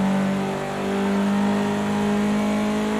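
Race car in Project CARS 2, accelerating hard out of a fourth-gear corner. A steady, loud engine drone is heard on its own, with no talk.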